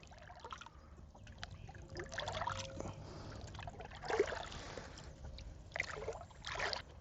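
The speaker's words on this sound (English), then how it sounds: "get down in here and scoop the water" Water scooped from a stream into a small handled container while overnight camping, with soft intermittent splashes and trickles close by, quiet against an outdoor background.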